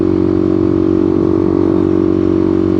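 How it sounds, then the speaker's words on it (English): Steady engine drone from a BMW G310R motorcycle exhaust while riding through Gates Pass, a continuous loud low hum with strong even harmonics and no change in pitch. "I'm worried about the drone on this exhaust"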